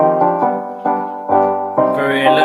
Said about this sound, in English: Very electronic sound of the piano there